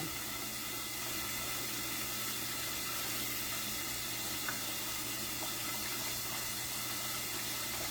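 Hot oil sizzles with a steady, dense crackling hiss that stays constant and close, with no voices.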